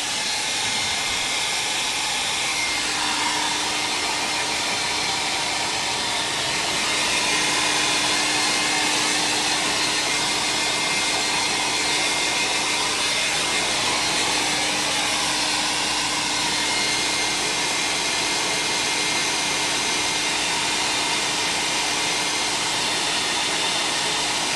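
A hair dryer blows a continuous, loud, steady roar while drying painted artwork, running unbroken for the whole stretch without any talk.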